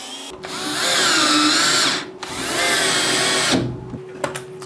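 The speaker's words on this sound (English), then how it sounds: "And I'm drilling from two sides to prevent a little bit of blowout." A cordless drill whines loudly through metal in two long bursts, drilling from both sides while modifying a bench vise, stopping briefly between them, then winding down with a few faint clicks.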